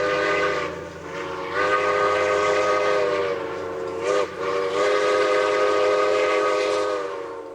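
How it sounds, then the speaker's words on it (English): The Royal Hudson steam train running up Howe Sound toward Squamish, a loud sustained whistle with layered tones under a steady rail rumble, briefly dipping and resuming, heard without talk. "they all seem to know about the Royal Hudson Steam Train"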